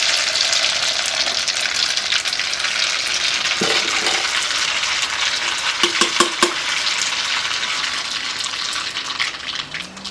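Mustard seeds tempering in hot oil for sambar to go with idli, a steady broadband sizzle and hiss throughout with a few sharper crackles and pops near the middle, close and fairly loud, with no talking.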